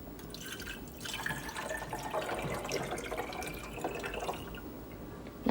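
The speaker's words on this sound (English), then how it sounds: "So just fill up your coffee cup, pour it in here." About 12 ounces of water poured from a cup into the reservoir of a CHULUX single-serve coffee maker, a steady gurgling, trickling stream that runs for several seconds and ends with a small knock.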